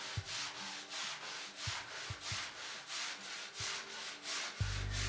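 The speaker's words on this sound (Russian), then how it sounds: "приступаем к шлифовке крупных" Sandpaper rubbing over a gypsum plaster rose bas-relief, removing a coarse filler layer in steady back-and-forth strokes, about a dozen rhythmic scrapes close by with soft knocks, and no voices.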